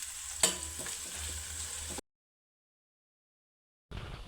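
Onions frying in a pan for a small-fish curry give off a steady close sizzle with a sharp clink near the start. The sizzle cuts to silence halfway through, then briefly resumes.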